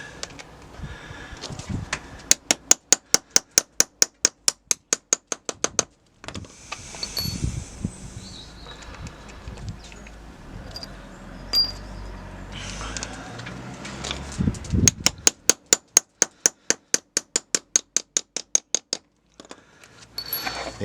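A rivet on a handmade leather knife sheath is tapped down with a hammer: two long runs of rapid, evenly spaced sharp taps, separated by quieter handling noises, close up.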